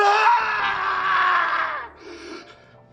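A character in the video game 999: Nine Hours, Nine Persons, Nine Doors lets out a long, loud, anguished scream that echoes through an incineration chamber. It holds for nearly two seconds, then trails off into a fainter groan.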